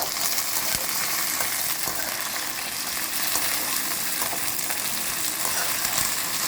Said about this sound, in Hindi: ये देखिए तेल अच्छे से गरम हो चुका है। तो इस टाइम पे मैं इनकी भिंडियाँ शामिल कर दूँगी।